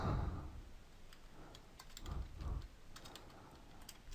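Someone types a search term on a computer keyboard: a handful of soft, faint key clicks tapped at an uneven pace in a quiet room.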